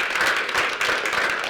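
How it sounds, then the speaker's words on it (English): An audience at an evening business event applauding the sponsors, a dense continuous wash of clapping from many hands filling the room. "let's actually give the sponsors a round of applause for tonight"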